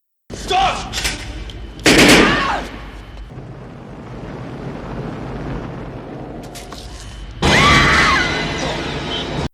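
Loud sharp bursts of gunfire ring out in a movie fight scene, one near the start, another around two seconds and a heavy volley near the end, with a low rumbling bed in between.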